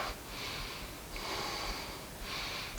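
A person breathes during a yoga flow, with three long, audible breaths in slow succession, close and fairly loud against a steady hiss.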